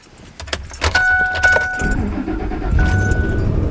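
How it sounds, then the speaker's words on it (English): A pickup truck engine cranks and catches, then settles into a low, steady idle close by, with a faint jingle of keys at the start. "hold on one second as I turn on my new truck"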